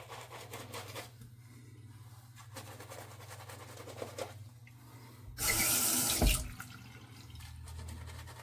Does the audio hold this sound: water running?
yes